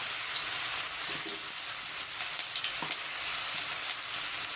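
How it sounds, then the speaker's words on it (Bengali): Onions frying with spices in a pan beside cauliflower, a dense, loud and steady sizzle with a couple of faint stirring knocks, heard up close and with no speech. "পাশে মশলা কষিয়ে নিই পেঁয়াজগুলো দিয়ে দিই"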